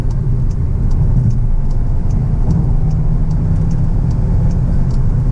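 A 2022 Volkswagen Arteon R-Line with a turbocharged four-cylinder and front-wheel drive accelerates, its engine giving a loud, steady mid-pitched drone under strong road and cabin rumble throughout.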